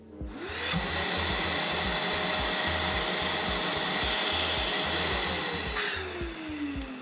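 A Festool dust extractor's steady motorized suction whine starts up, runs loudly and continuously, then winds down near the end, with a rhythmic low thumping underneath.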